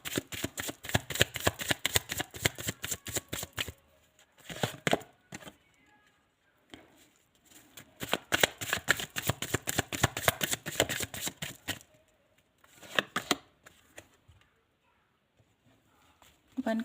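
Tarot cards are shuffled in rapid riffling bursts of dense papery flicks, close and crisp, in three long runs and a short one separated by quiet pauses.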